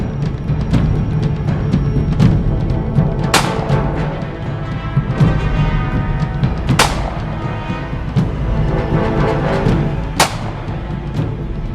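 Rifle fire on an outdoor shooting range: about three sharp reports stand out a few seconds apart among smaller pops, over a constant rumble of wind and background noise.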